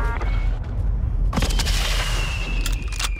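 Gunfire in Call of Duty: Modern Warfare, a few sharp cracks and booming shots over a dense low rumble of battle, fairly loud and close.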